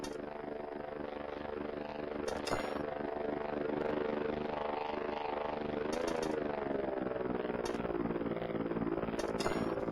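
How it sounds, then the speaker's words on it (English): A drone in Voices of the Void gives off a steady, buzzing hum with a strong harmonic drone. It holds continuously for ten seconds at an even level, with a few faint clinks over it. "Hear the drone."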